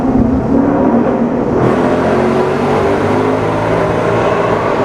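A loud, steady roar from a Ford Mustang GT 5.0 V8 exhaust in a tunnel fills the whole stretch, deep and rumbling with no speech over it.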